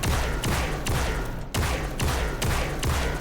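Loud, rapid gunfire in System Shock (2023), a sci-fi shooter, rattling in steady repeated bursts with a brief break midway, no voices present.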